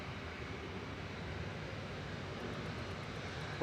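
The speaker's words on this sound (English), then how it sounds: "Air tankers lining up now, heading off to Faro." An Air Tanker airliner lines up for takeoff to Faro at Manchester Airport, its engines a steady broadband roar that holds constant throughout, moderately distant, with no voices.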